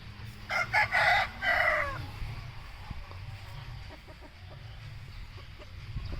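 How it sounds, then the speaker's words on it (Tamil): A rooster crows once, fairly close and loud, its call rising and trailing off, followed by quieter farmyard background noise. "பாருங்கள், சேவல் ஒன்று வருது பாருங்கள்."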